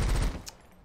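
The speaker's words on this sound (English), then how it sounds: "What if I charge my gun?" A charged gun shot in the video game Rusted Moss, a short burst of heavy low thumps followed by a bright crack, then a quick fade.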